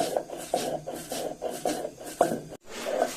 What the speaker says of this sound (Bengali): ধনিয়া বেটে নিচ্ছি